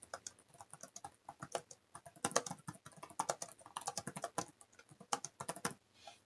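Steady typing on the detachable keyboard of an 11th Gen Intel Surface Pro: a fast, uneven run of crisp, punchy key clicks heard close up, with short pauses between bursts and no talking.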